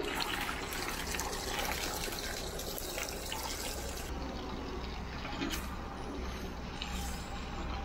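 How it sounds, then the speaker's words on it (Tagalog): Steady broadband rush of water spraying onto a vehicle's tires at a roadside wash stop in Karanglan, continuous and fairly close, with no talking. "Hugas muna tayo ng gulong."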